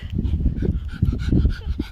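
A dog pants hard and fast at close range during a park outing, with quick rhythmic breaths and a faint whimper, no voices.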